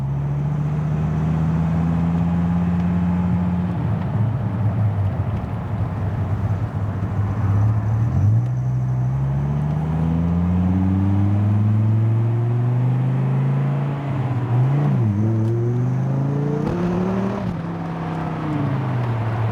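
A 1997 Dodge Viper accelerates hard, its loud engine rising in pitch through the gears with a brief dip at each shift, heard up close with no talking.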